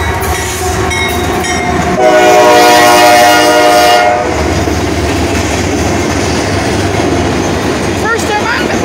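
A CSX freight train rolls past at close range near State Route 19 in Kingsway, Ohio, its horn blaring loudly for a couple of seconds over the steady rumble and rattle of passing cars, with people talking faintly underneath.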